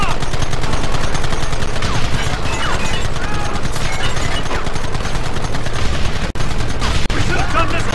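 Sustained gunfire in the Western video game Red Dead Redemption, with dense rapid shots and crashes forming a loud, continuous barrage over game sounds. A voice or two shouts briefly beneath the shooting.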